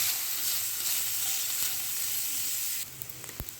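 Ripe mango pieces sizzle softly in a pan over a medium flame, a steady low frying hiss with faint stirring, ending in a few light scrapes and taps.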